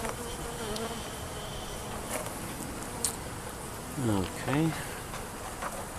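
Bees hum continuously around an open beehive during an inspection, a dense steady drone close by, with a few individual bees buzzing louder as they fly past; someone speaks briefly.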